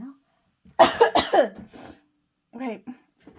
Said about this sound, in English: Oh dear, I've got a bit of a cough now.